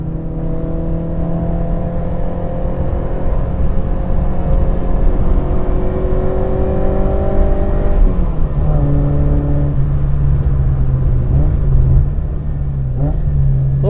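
From inside a Fiat Cinquecento Trofeo replica on the move, the small engine revs and climbs steadily in pitch, drops sharply at a gear change, then pulls again, loud and continuous with road rumble and no talking.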